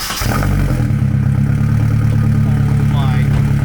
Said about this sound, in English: Maybe I can start up the car and see how it sounds like.